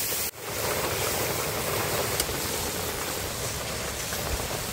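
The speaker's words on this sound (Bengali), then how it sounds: "দিয়ে দেবো কুচনো পেঁয়াজ" Chopped onions go into hot oil with whole cumin seeds in a wok in a village kitchen. After a brief dip, a loud, dense, continuous sizzle holds steady close by.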